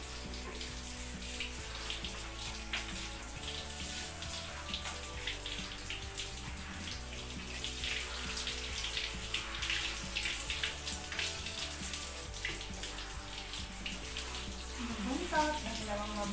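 Tap water runs steadily throughout while a Chow Chow dog is rinsed during a bath, a continuous close splashing rush with soft background voices.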